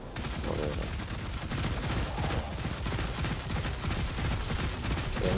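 Sustained automatic gunfire from the video game Destiny 2 forms a dense, rapid, continuous burst of shots at a steady volume that runs through the whole stretch.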